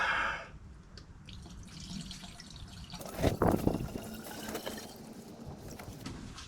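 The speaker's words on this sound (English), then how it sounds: "Right, we'll top that up with fresh water now." Fresh water poured to refill the cooling system of a classic Mini Cooper RSP after a Fernox F3 cleaner flush, a quiet trickle and splash with a brief louder gush in the middle.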